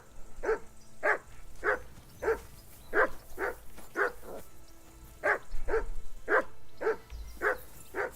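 A dog in the game Kingdom Come: Deliverance II barks repeatedly in short, irregular bursts at moderate distance, sometimes doubling up, over a low background hum.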